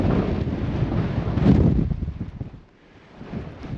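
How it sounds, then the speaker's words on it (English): Strong wind buffets the microphone on a snowy Cairngorms mountain top, a loud, low rumbling roar in gusts that briefly eases before picking up again. "That wind is insane though."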